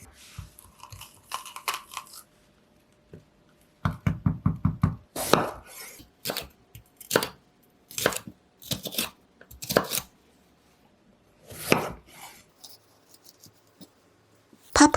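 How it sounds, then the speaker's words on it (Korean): A knife slices paprika into bite-sized pieces, with bursts of rapid crunchy chopping and separate sharp cuts spaced out over the stretch. No one speaks. "파프리카는 양배추와 같은 크기로 잘라줄게요."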